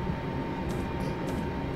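Class 350 EMU electric train running on the West Coast Main Line in Train Simulator 2015, a steady low rumble with a faint constant tone and brief hissy swells, continuous and fairly close.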